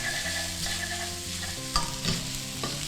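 Instant noodles stir-fried in a pan with soy sauce and sugar: a constant loud sizzle with a spatula scraping and clacking against the pan a couple of times near the end, close up and with no talking.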